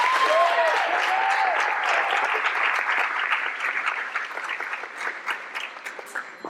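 An audience at a school board Top Ten recognition gives steady applause for graduating students, dense clapping that starts full and gradually thins into scattered claps toward the end.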